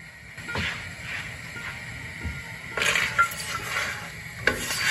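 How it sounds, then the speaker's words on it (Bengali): Onion, garlic, ginger, raisins, turmeric and Kashmiri chilli powder frying in oil for an egg cheese shahi curry, a low steady sizzle broken by clinks and scrapes of a spoon stirring the pan, with sharper clatter toward the end. "পেঁয়াজ, রসুন, আদা, কিশমিশ এবং হলুদ, লঙ্কা, কাশ্মীরি লঙ্কার গুঁড়ো একসঙ্গে দিয়ে আমি কষাতে শুরু করলাম"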